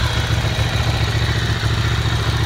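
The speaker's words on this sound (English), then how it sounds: "nice looking, nice sounding Ducati" A 2005 Ducati Monster 620 engine runs at a steady idle close by, with a deep, even, pulsing thrum and a loose mechanical clatter.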